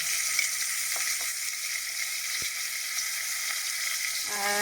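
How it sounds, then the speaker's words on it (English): Curry leaves sizzle and crackle in hot oil for a rasam, a steady bright frying hiss with a few soft pops and stirring taps, close and alone. "I'm going to also add the curry leaves"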